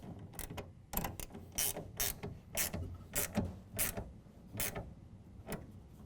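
Repeated ratchet clicks from tightening the middle clamp of an Access LiteRider tonneau cover in a pickup bed, about a dozen close, steady strokes in an even rhythm with no talking.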